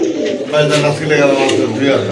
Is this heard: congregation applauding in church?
no